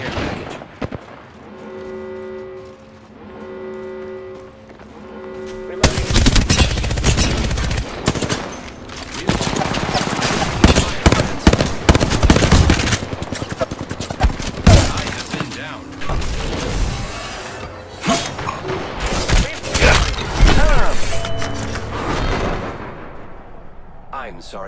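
Gunfire in the video game Apex Legends: after a quieter opening with tonal game sounds, dense rapid bursts of shots and impacts erupt and continue in clusters, loud and close, with a voice talking in places.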